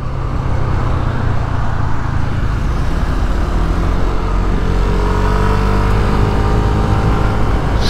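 A Yamaha NVX motorcycle engine with a faulty auto idling system runs steadily and loudly throughout, a constant low mechanical drone with little change in pitch.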